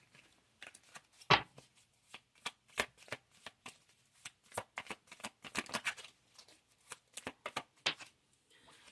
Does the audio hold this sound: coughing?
no